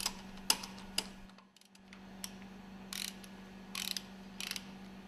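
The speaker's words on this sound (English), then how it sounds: "Mount and tighten the screws for the cooling jacket." Screws are tightened on the cooling jacket of an engine cylinder cover during an overhaul, giving faint metallic ratcheting clicks and short tool bursts over a steady low machinery hum.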